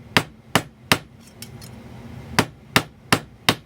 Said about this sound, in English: Just a couple of hits, and I'm not hitting real hard.